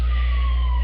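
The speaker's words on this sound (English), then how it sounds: "there's an ambulance going by" An ambulance siren passes nearby, a loud, sustained wailing tone that drifts slightly in pitch over a steady low rumble.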